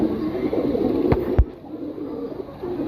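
Pigeons coo softly in a loft, low murmuring calls running steadily in the background, with two brief sharp knocks partway through.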